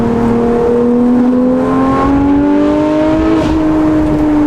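A Porsche GT3 with a naturally aspirated engine and manual gearbox revs up to about 7,000 RPM, its loud, close engine note climbing steadily in pitch before a brief dip and a sustained high whine.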